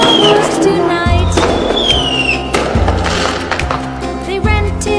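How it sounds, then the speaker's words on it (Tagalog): Bonfire Night fireworks going off, a run of heavy booming thumps and crackling bursts, loud and continuous, with several deep low blasts spaced about a second apart over a dense crackle. "that's why we light fireworks tonight"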